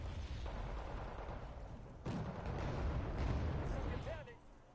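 T-72 tanks laying down fire support in the war game Wargame: Red Dragon, with a couple of heavy booms over a continuous low battlefield rumble.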